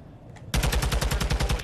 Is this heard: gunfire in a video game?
yes